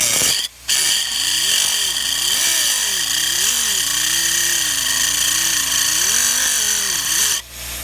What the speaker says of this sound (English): I'm just freehand cutting it. I'm doing rough cuts